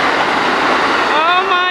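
Tri-Rail commuter train pulling into a station, a loud, steady rumble with rising metallic squeal as it nears, voices mixed in.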